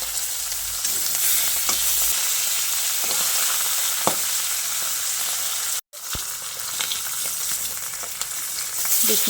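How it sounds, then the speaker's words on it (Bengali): Rui fish fry in hot oil in a wok, giving a loud, continuous sizzle and crackle with occasional sharper pops and stirring scrapes, unbroken except for one momentary cut. "ওই তেলে বাকি মাছগুলোকেও ভেজে নিচ্ছি।"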